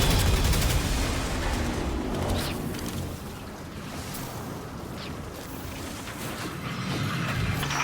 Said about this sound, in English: I heard those explosions from here.